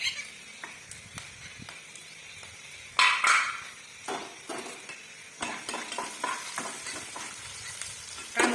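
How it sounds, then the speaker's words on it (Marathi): Onions sauté in a pan with a steady sizzle, broken by clattering scrapes and knocks of a spatula and pan, including a louder burst of frying partway through, close by with no talk. "तोपर्यंत कांदा इकडे परततोय"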